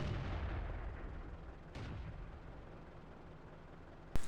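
Tank cannons boom in World of Tanks on the Prokhorovka map, heard as a distant muffled blast over a steady rumbling engine bed, followed by a sharper, closer shot near the end.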